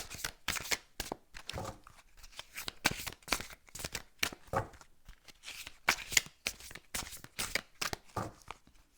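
Playing cards shuffled and drawn for a card reading, giving a long run of crisp riffling and slapping flutters in an uneven rhythm, close and clear with no talking.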